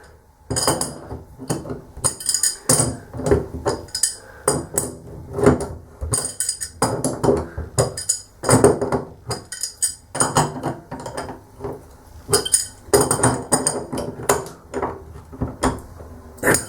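A part of a bathroom tap is worked loose by hand, with a busy run of close metallic clinks, taps and rattles coming in irregular bursts and short pauses, with no talking.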